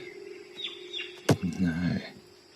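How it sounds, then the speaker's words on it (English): Birds chirp in the film Churuli, with short high calls over a steady insect drone, followed by a sharp crack and a low, voice-like sound near the end. "the birds are here."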